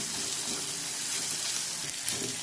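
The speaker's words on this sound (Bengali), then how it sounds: "পেঁয়াজটাকে আমি লাল লাল করে ভেজে নেব" Chopped onion frying in hot oil over a tempering of cumin, dried red chilli, garam masala and bay leaf, for a Bengali jackfruit and prawn curry, gives a steady, close, dense sizzle with no talk.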